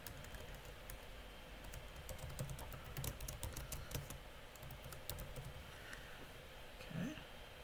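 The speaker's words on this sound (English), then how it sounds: "I can type the title." A computer keyboard being typed on, a quick, irregular run of light key clicks at close range over a faint room background, with a soft voice murmuring briefly near the end.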